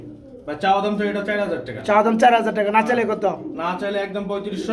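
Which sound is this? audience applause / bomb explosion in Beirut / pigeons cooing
pigeons cooing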